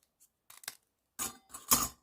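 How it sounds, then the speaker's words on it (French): Scissors snip paper while a birthday card is cut to size for a scrapbooking project, with a few light clicks followed by two close, crisp cutting strokes. "Alors, mon ciseau."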